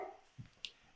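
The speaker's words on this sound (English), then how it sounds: "that's my dog rattling off in the background" A dog barks a few times in the background of a home livestream, short faint yips set well back from the microphone, with no talk over them.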